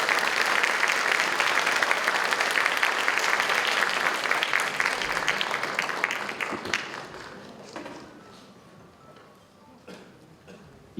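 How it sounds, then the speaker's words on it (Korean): A lecture audience at Mokpo National University applauds to welcome Cho Kuk, the speaker, with dense, steady clapping that slowly thins out and fades over about eleven seconds. "여러분, 큰 박수로 맞이해 주시기 바랍니다"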